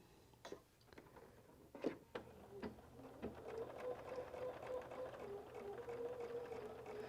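Quiet mechanical clicks and ticks give way to a sewing machine's steady whirring stitch during quilt appliqué, running continuously and fairly close.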